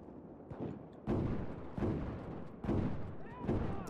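Heavy machine gun fire in Battlefield 4 comes in repeated loud, booming bursts roughly every second, close and harsh, filling the whole stretch.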